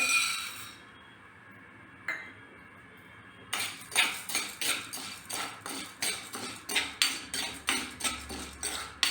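Chana dal roasting in a spoonful of oil in a pan for mint chutney, heard as a steady run of close metal spoon scrapes and clinks against the pan, evenly repeated after a quieter start.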